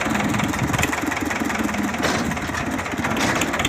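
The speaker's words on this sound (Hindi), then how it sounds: "तो छोटा सा ड्राइवर ट्रैक्टर चला रहा है" A tractor engine, driven by a small boy while loading wood, runs steadily throughout with a continuous mid-pitched idling drone, close and fairly loud with no talk over it.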